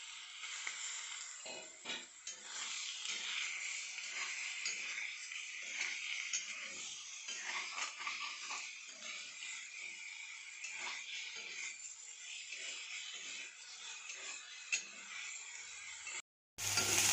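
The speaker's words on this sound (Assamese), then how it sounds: "এই শুকান কেৰাহীতে মই মাংসখিনি অকণমান ফ্ৰাই কৰি লওঁ" Chicken sizzles steadily in a hot dry wok, with scattered crackles and scraping as it is moved around, ending abruptly.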